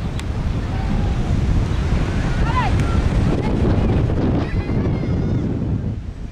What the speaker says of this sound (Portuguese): Praia nos Estados Unidos.